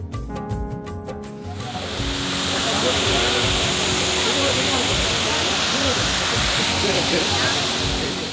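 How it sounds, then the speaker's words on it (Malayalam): Small waterfall in hilly country near Vattavada, its broad steady rush of falling water filling the scene up close and continuous, rising after a brief quieter start. "ചെറിയ ഒരു വെള്ളച്ചാട്ടം വർഷകാലത്ത് കുറെ കൂടി ശക്തമാകും"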